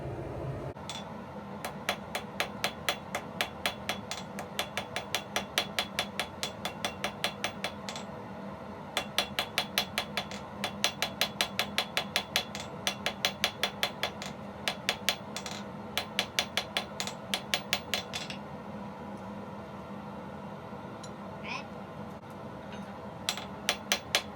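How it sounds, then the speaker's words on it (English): Light planishing hammer blows shaping a blacksmith's forged nail ring out in quick, evenly spaced bursts of bright metallic taps, fairly close and clear, with short pauses between runs and no talking. "Those are just some planishing blows, very light, just making sure it's about the right size."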